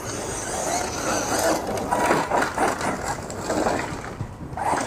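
A Hosim Mojarco 6s M33 RC truck whines and roars under steady throttle as it launches for a backflip off a ramp, with a dense, continuous motor buzz and rattling from start to finish.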